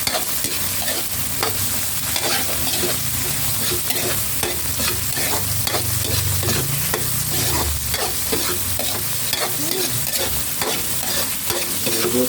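Ginataang tilapia frying and being stirred in a pan, a loud, steady sizzle with scraping stir strokes throughout, no talk over it.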